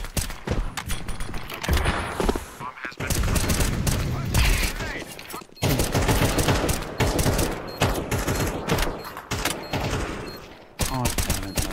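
Rapid bursts of automatic gunfire from a shooting video game set on the Anubis map, dense and loud in near-continuous volleys with brief pauses, while a player talks over the action.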